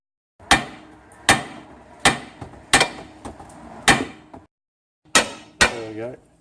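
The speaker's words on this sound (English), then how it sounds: "we'll just give it a little bit of a tap with the hammer, and that should just pop out" A hammer taps a nut off the threaded rod of a Ford front MacPherson strut, about seven sharp metallic strikes in an irregular rhythm with brief ringing decay, close and loud with a short pause before the last two.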